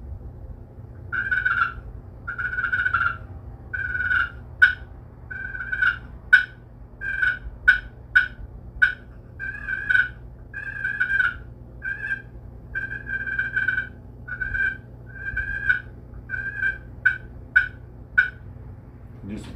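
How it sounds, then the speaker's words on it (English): Clucks and purrs played on a custom slate turkey call. Rolling purr notes alternate with sharp single clucks in an uneven, close sequence that lasts throughout. "The cluck and purr."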